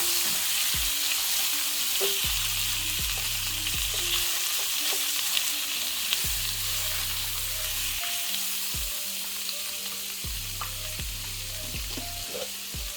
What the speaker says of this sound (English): Next thing that goes in is our shrimp.